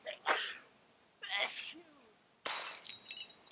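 A few short, sharp sneeze bursts sound in quick succession, close and clear, separated by brief pauses.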